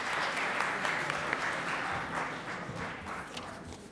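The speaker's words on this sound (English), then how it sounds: "Let's have a round of applause." A crowd applauds at a student guild officer elections event, steady sustained clapping throughout from a roomful of people, fairly close and without speech.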